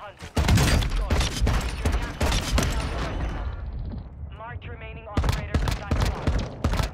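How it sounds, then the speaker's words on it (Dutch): Mortar strike blasts and rapid gunfire in the video game Warzone 2 Resurgence, loud dense bursts of shots and booms under excited talk, easing briefly before another heavy volley. "Mortar strike."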